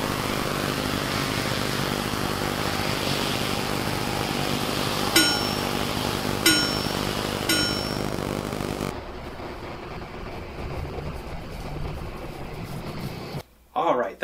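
Yuneec Q500 4K quadcopter drone propellers in flight, a steady whirring buzz that holds for several seconds, then drops in level and changes texture toward the end, with a voice occasionally heard.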